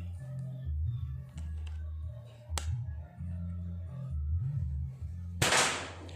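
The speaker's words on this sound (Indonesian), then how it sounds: "Kita mencoba beberapa kali tembakan." Two sharp, cracking PCP air rifle shots a few seconds apart, the second louder and broader, over a steady low engine-like hum.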